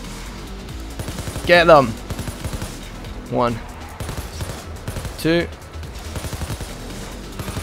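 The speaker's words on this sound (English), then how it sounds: "We've got to shoot out the windows to, well... cause havoc." Rapid bursts of gunfire in Payday 2 during the Slaughterhouse heist, with shots fired to blow out windows. A loud rattling barrage runs throughout, with a few sharp louder shots and a shouted in-game voice over it.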